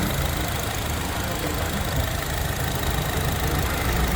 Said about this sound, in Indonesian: suara mesin super halus. Yang terdengar hanya suara injektor saja.